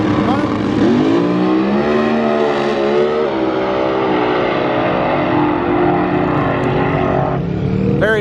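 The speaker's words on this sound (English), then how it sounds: "We've got quite a few cars running." Street-class and pro-class drag race cars, including XDR cars, run at Bandimere Speedway; steady loud engine drone and revving fills the scene throughout, with a person talking over it.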